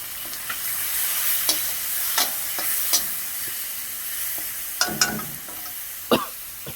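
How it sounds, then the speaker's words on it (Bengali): Food stirred in a frying pan with garlic paste, a continuous sizzle broken by repeated sharp scrapes and clacks of the spatula, close by, no speech. "ভালো করে নেড়ে নেব।"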